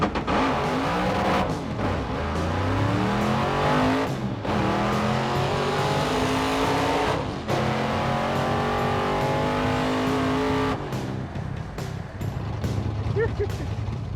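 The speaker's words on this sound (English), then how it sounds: "It didn't fully hook, and he hit the rev limiter in first" Drag race car launching down the strip, engine climbing through revs and repeatedly bouncing off the rev limiter in first gear with loud stuttering bursts before pulling away; a voice talks over parts of it.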